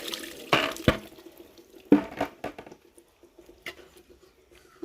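Water splashed onto a stone grinding slab used for crushing henna leaves: a few short, close splashing patters in separate bursts, with quiet drips in between and no talking.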